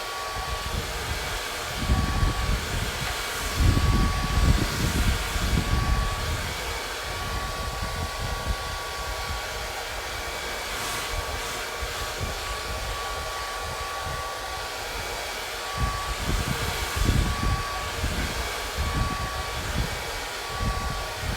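A hair dryer blows on a watercolour painting of Moreston Quay, a loud, continuous whirring roar close to the microphone that swells and dips slightly as it moves, running without talk.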